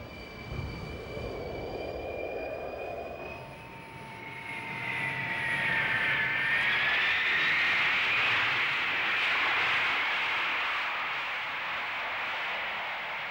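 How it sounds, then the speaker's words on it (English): Boeing 727 airliner in flight, a steady broad jet engine roar with a whining tone that rises and swells midway, continuous throughout with no talking. "The investigators board a Boeing 727 to trace a course similar to the one taken by"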